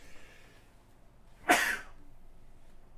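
A single abrupt cough bursts out in a quiet room, brief and fairly close, with faint breathing around it.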